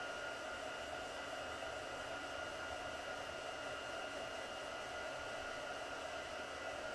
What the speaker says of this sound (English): when you're heat embossing, you can see that it turns from dull to shiny.